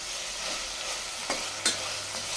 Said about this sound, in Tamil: இப்போது நல்லா வதக்கி விட்டுக்கலாம்.